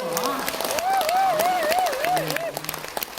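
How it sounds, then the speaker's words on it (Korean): An audience applauds at a trot concert, a broad wash of clapping heard under a singer's drawn-out voice and some talk. "이렇게 박수 박수 한번 쳐줘"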